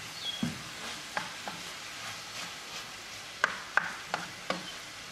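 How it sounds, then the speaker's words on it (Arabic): A spoon stirs and mixes a spiced filling of cumin, salt and spices for a broken goulash pie, giving soft scraping with a few sharper knocks against the bowl, close up and with no talking. "نخلط مزيان."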